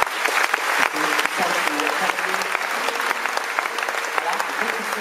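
A large concert crowd at the Francofolies festival in La Rochelle claps loudly and steadily in sustained applause, dense and continuous throughout, with no voices standing out.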